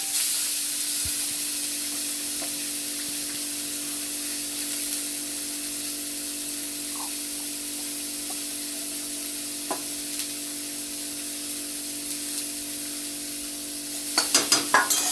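Spices fry with green chilies in a home kitchen pan, giving a constant hiss and sizzle with a low steady hum, while a spoon stirs and scrapes in a short burst of clatter at the end.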